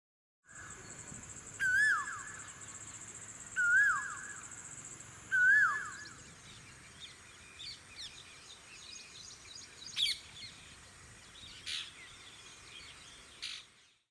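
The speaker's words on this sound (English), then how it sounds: "Cuckoo bird." A cuckoo calls three times in a slow, evenly spaced series of bright two-note phrases, fairly close, over a faint hissing outdoor background with a few scattered chirps and clicks afterward.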